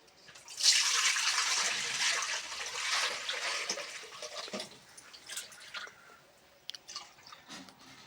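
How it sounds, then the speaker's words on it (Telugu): Water pours steadily into a vessel with a broad splashing rush that gradually thins out into trickles and drips. "ఆ వాటర్ని ఇప్పుడు నేను ఈ గిన్నెలోకి తీసుకుంటున్నా"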